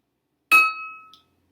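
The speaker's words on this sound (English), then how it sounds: "It's a little bit of a lower pitch." One tap on a glass holding water produces a clear clink with a lower ringing tone that decays smoothly in quiet surroundings, followed by a faint small touch near the end.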